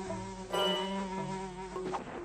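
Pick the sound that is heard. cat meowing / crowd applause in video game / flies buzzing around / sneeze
flies buzzing around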